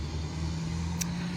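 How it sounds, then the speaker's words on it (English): A big diesel truck rumbles past outdoors, a steady low engine drone at moderate distance with no talking. "big diesel truck."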